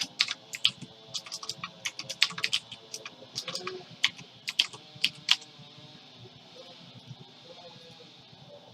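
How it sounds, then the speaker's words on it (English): Typing on a computer keyboard, close-up rapid bursts of clicky keystrokes in uneven clusters that taper off toward the end, with no talking. "go down here and type in the word grad"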